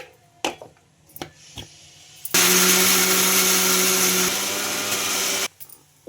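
A mixer grinder grinds coconut chutney with a little water, whirring loudly for about three seconds in a steady high-pitched grinding roar, with clicks and knocks before and after.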